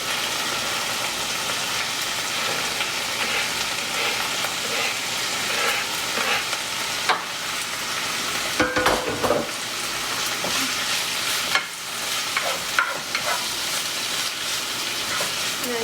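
Mushrooms fry in a hot pan with a dense continuous sizzle, punctuated by bursts of scraping and clatter as they are stirred, close and steady with no voices.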